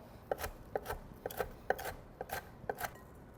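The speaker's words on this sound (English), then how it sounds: "We'll just give this a rough chop as well." Knife chopping crisp cooked bacon on a board, a steady run of about a dozen quick, light, crunchy cuts at close range with nothing else heard.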